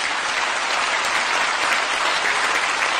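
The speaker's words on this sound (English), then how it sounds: "Would you kindly give them a warm round of applause?" Loud, steady applause from a summit audience honouring African heads of state in Dakar, an unbroken wash of clapping hands filling the hall from start to finish.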